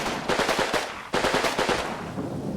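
A Russian machine gun team fires in the World War II tactics game Combat Mission Red Thunder: two quick bursts of rattling automatic fire, close and loud, separated by a short gap.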